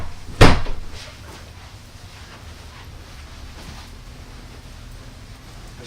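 A single sharp knock or clunk of a door being tried in a video game, loud and close, followed by a quiet hiss of background ambience with no voices.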